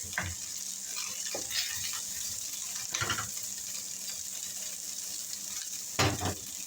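Garlic frying in a pan for chicken and broccoli, a steady hissing sizzle with a few louder bursts and spoon scrapes, close by and without speech.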